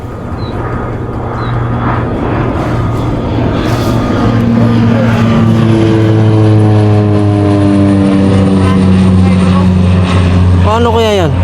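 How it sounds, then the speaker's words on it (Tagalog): Propeller airplane passing overhead, a steady drone that swells and holds loud with shifting pitch, under other sounds with voices nearby. "Ano ba itong aeroplano eh?"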